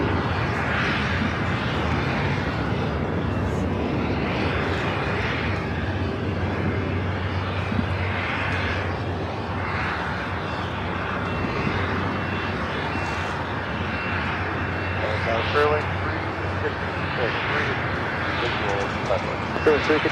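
An airplane rolls down runway 25 left at LAX with a steady, loud engine rumble and roar that holds for the whole stretch, while a person talks over it.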